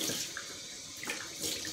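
Cold water runs steadily from a tap into a sink, a continuous broadband splashing hiss, moderately close, with small bright spatters and droplet plinks surging briefly near the end, no talking.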